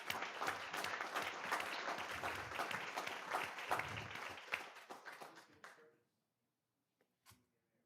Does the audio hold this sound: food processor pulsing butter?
no